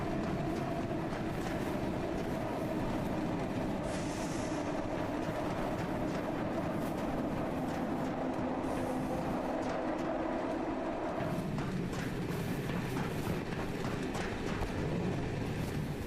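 A moving train in a game under development, heard as a steady rumbling, rattling roll that runs loud and unbroken throughout, with a shift in tone near the end.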